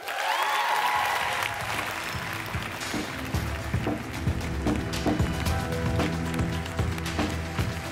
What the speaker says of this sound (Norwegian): Mine damer og herrer, klapp henne sammen for Christian Lo!